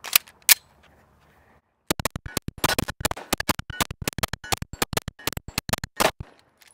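A Canik TTI Combat pistol firing at a plate rack: two sharp shots, a pause, then a fast string of many rapid, loud cracks and plate hits close by.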